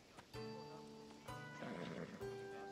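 Horse neighing in Assassin's Creed Odyssey, a game on ancient Greece: three separate whinnies with clear, tonal, wavering harmonics, each cut off and followed by another, close and fairly loud over a soft ambient bed.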